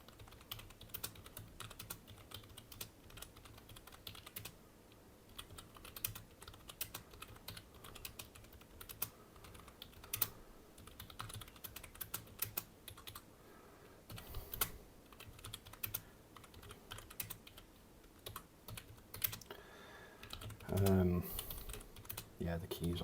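Rapid, uneven clattering of keys on a cheap computer keyboard during a typing test, close and continuous with frequent doubled keystrokes, ending in a few louder thumps.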